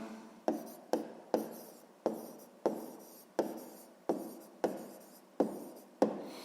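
Pen strokes on paper while working out a square's perimeter for a sixth-grade maths exercise, about ten repeated scratchy strokes in a steady rhythm, close and clear with no talking.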